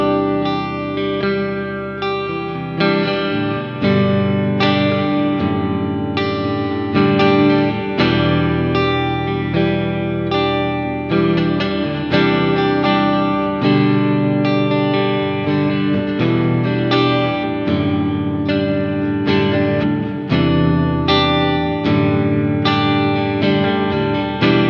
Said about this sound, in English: It's like the guitar is swimming in all this reverb